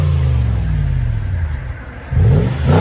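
A 2008 Toyota 4Runner with a 4.7L V8 and a 14-inch Magnaflow exhaust rumbles at idle, dips briefly, then revs up sharply with a deep, close, throaty roar near the end.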